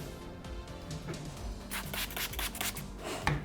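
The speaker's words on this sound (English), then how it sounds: "We're gonna grab our squeegee" Squeegee pushed over paint protection film on a Tesla Cybertruck: a steady close rubbing and swishing that builds into firmer strokes, with a small thump near the end and no voices.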